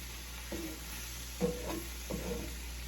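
Goulash ingredients are stirred in a pot, three soft scraping strokes of a spoon over a low steady hum, quiet and close.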